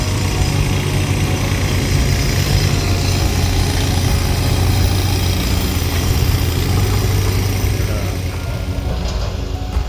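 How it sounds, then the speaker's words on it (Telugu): Tractors that have carried half a load of sand up a hill for road construction near a temple, heard as a loud, steady, close engine rumble that continues without a break. "ఒక అర్ధ ట్రాక్టర్ ఇసుక తీసుకొని కొండపైకి ట్రాక్టర్లు వచ్చాయి."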